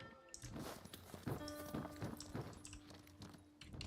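A horse in the video game Where Winds Meet walks with several close, distinct hoof clip-clops, while a steady tonal game sound hums underneath.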